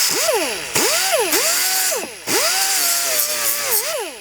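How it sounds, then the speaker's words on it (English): A small pneumatic air sander smooths the cut edge of a plastic overhead MOLLE panel for a Ford Bronco, its loud whine rising and falling in pitch over several bursts with brief drops as it bears down. "I'm just going to take a little air sander and kind of smooth out where I've made this cut"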